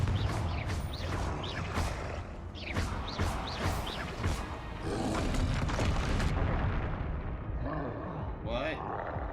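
Confringo blasting spells explode repeatedly in Hogwarts Legacy combat, a run of sharp, booming bursts about every second over steady rumbling battle noise. A voice talks intermittently beneath the blasts.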